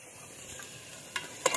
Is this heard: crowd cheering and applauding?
no